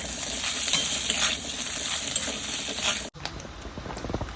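Pork fries in a pan until it releases its own fat. A loud, continuous sizzle is broken by stirring scrapes and a brief dropout near the end.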